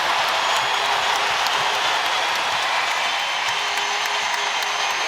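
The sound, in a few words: basketball arena crowd cheering and applauding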